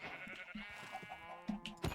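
Sheep in the video game Minecraft bleat a few times in short, nasal calls, close but faint, against a quiet background.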